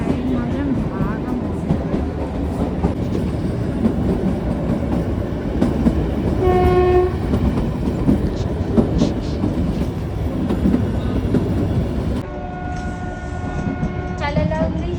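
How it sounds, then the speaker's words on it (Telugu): The Kalka-Shimla toy train rumbles along the narrow-gauge line, close and loud with steady rolling clatter, its horn sounding in two clear blasts, a short one midway and a longer one near the end. "ఫస్ట్ టాయ్ ట్రైను ఇది, కల్కాసిమ్లో టాయ్ ట్రైను."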